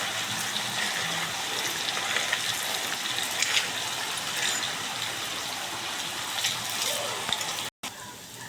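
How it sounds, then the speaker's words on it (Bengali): Dough balls for a syrup-soaked sweet fry in medium-hot oil, giving a soft, steady bubbling hiss at moderate distance with a few faint stirring touches. "আর এখানে আমি তেল গরম বসিয়েছি, এবার এগুলো ভেজে নেব।"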